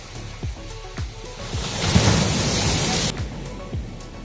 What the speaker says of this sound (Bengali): দেখছেন জোয়ারে বেশ বড় বড় ঢেউ আছড়ে পড়ছে।